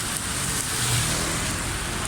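Heavy rain hisses on a slick road as a car swishes past, a loud, continuous wash of noise with a low engine rumble swelling briefly in the middle.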